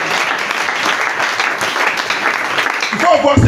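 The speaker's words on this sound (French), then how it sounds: "Est-ce qu'on peut acclamer la parole de Dieu?" A church congregation breaks into applause and cheering during a sermon, a steady wash of clapping with voices mixed in, swelling slightly louder toward the end.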